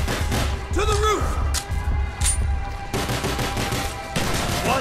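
Heavy gunfire rattles through a Call of Duty: Black Ops mission, loud bursts of automatic shots and thumps with shouted voices breaking in over the barrage.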